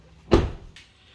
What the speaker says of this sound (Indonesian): Ini bagian pintu yang paling belakang. Hidroliknya kanan kiri juga masih berfungsi dengan baik.